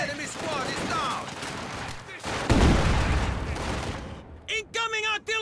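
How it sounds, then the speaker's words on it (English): Artillery barrages and gunfire crash in the Company of Heroes 2 war game, a dense, loud rumble with a heavy booming swell midway, while voiced soldier shouts break in near the end. "Incoming artillery! Get down!"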